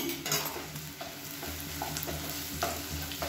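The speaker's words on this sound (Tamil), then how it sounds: "வெண்ணெயில் லேசாக வதக்கி விட்டுக்கலாம்." Soft, steady sizzling of food sautéing in butter in a pan, with occasional stirring scrapes and no talking.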